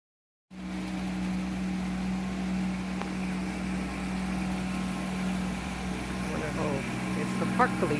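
A park police boat on the San Antonio River runs its engine, a steady low droning hum that holds at moderate level from a distance for several seconds, with faint scattered sounds around it.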